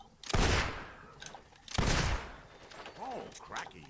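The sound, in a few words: gunshot from video game Fable 2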